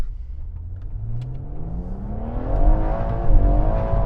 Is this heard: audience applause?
no